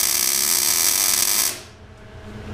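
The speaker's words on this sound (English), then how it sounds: "Put a little weld here, then switch and do a little weld and just run back and forth." A MIG welder makes a loud, steady crackling buzz for about a second and a half and then cuts off. It is running short tack welds on a steer arm on a Dana 60 front axle from a 2004 Super Duty.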